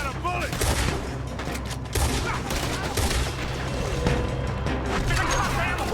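A chaotic gunfight in the western game Red Dead Redemption 2, with continuous overlapping gunshots, booms and clatter filling the scene at a steady loud level, and voices shouting under the fire.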